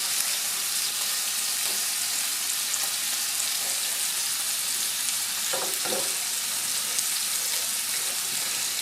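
Cauliflower rice with cilantro sizzles steadily in a pan, a constant bright frying hiss with a couple of faint stirring scrapes near the middle, no voices.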